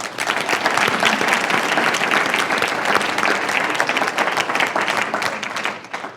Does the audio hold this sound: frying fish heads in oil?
no